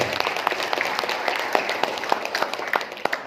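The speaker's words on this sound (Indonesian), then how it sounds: "saya kira layaklah kita berikan aplaus pada PT BES" An audience at an Indonesian seminar on a Sharia-based partnership program breaks into scattered applause, with loose, uneven hand claps that carry steadily throughout.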